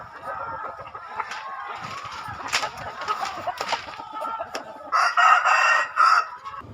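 Fighting roosters at an illegal cockfighting arena in Jabung, East Lampung, crow repeatedly and loudly with several overlapping calls and clucks, set against a busy, noisy background.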